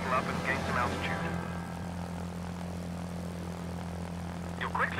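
A propeller fighter plane's engine drones steadily and loudly in Secret Weapons Over Normandy, during the Dunkirk mission, a constant low hum with faint muffled voice-like bursts near the start and end.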